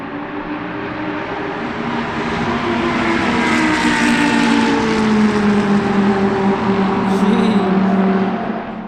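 A hypercar at an open-air speed festival roars along the course, its engine note rising and swelling as it approaches, echoing off surroundings, loud and continuous with a gradual fade near the end.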